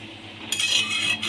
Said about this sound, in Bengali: 10 মিনিট পর আমি এবার ঢাকাটা খুলে নেব।